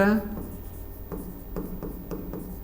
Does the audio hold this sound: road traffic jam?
no